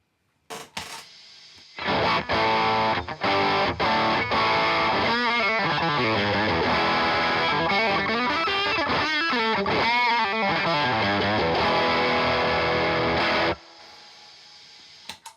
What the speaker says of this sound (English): Let's see what the fuzz does then